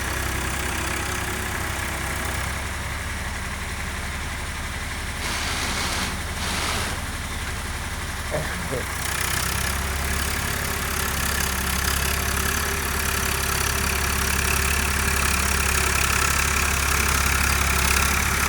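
A tractor engine rumbles steadily at close range, a continuous low idling drone with faint clattering, and no one speaking, during paddy field work.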